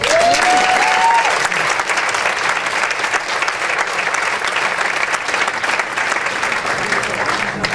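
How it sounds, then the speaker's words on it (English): An audience at a community awards night in Pleasant Hill gives a loud, sustained round of applause for the service award winners, with a brief whistle at the start and faint voices underneath. "please join me in giving a warm round of applause to the 2012 Community Service Award winners"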